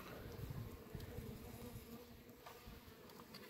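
A dense, steady buzzing of many honeybees fills the recording, close and continuous with no voices.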